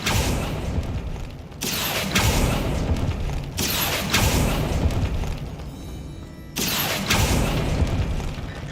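Confringo fire spell blasts in the Hogwarts Legacy video game, loud booming bursts recurring roughly every two seconds over a continuous rumbling game backdrop, with no talk.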